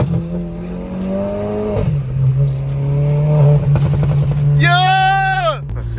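A Volkswagen GTI on stage 2 tune with newly installed front coilovers drives and accelerates, a loud steady engine drone shifting pitch as it goes, with a rising whine late and a voice speaking over it.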